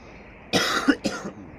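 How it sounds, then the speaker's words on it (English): A lecturer speaking on Heidegger gives two sharp, close coughs in quick succession, a harsh burst followed by a shorter second one, then quiet. "So sorry about this cough."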